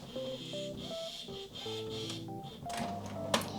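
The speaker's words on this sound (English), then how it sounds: "Oh, hello printer. It's so loud, I'm so sorry." An inkjet printer running loudly in a home art studio, a steady mechanical whirr with shifting motor tones and a sharp click near the end, no one talking.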